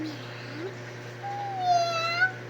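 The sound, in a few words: cat meowing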